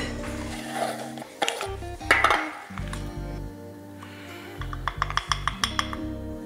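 Fish being mixed through with seasoning in a bowl, soft clinks and scrapes of the bowl alongside low background music, ending in a quick series of close taps.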